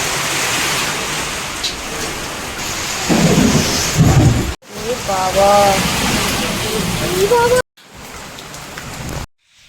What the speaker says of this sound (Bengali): প্রতিদিন এরকম ঝড় বৃষ্টি হচ্ছে